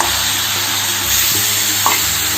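Boiled jackfruit is stirred and fried with spices in a hot pan, giving a loud, continuous sizzle close by, with a spoon scraping through it now and then.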